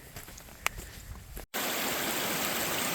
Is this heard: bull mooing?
no